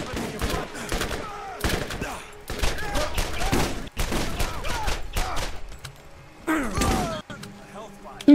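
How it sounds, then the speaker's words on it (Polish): Automatic SMG fire in the video game Borderlands comes in rapid bursts with short pauses between them, fairly loud, while players talk over the shooting. "To jest SMG. To jest tylko automat."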